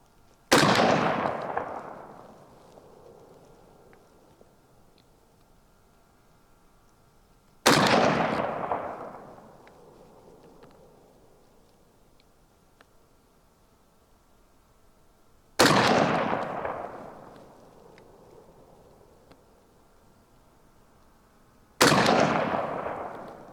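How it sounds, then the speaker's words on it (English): Four loud, booming rifle shots from a Mini-14 or AR-15 ring out several seconds apart, each a sharp report followed by a long echoing decay into quiet. "I would say that's 10 shots relatively rapid fire"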